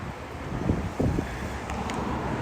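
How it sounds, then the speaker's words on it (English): Breezy wind gusts buffet the microphone on Santa Monica Boulevard in Beverly Hills, a rough low rumble with a couple of stronger thumps and faint traffic noise behind it. "Ooh, it's getting a little breezy."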